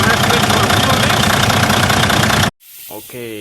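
Freightliner Cascadia diesel engine with a DD13/DD15, running steadily and loud with a broad hissing roar, cutting off abruptly near the end as a voice begins.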